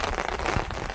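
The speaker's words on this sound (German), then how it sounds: "Es regnet! Regen!" Steady rain pattering on a surface outdoors somewhere in Norway's Agder region, a dense, continuous hiss of drops throughout with no talking.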